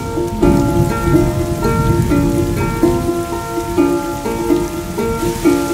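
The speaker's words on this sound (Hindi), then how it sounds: "अरे बारिश हो रही है, चलो अंदर चलो।" Steady rain pattering on a surface, continuous and fairly loud, with a tonal musical layer of sustained notes running underneath.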